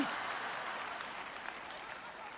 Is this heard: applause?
yes